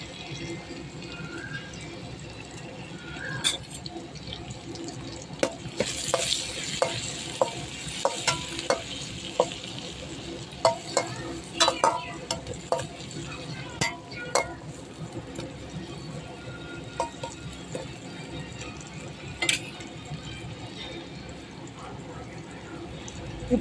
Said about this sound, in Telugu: ఇప్పుడు వచ్చేసి పచ్చిమిర్చి వేద్దామండి.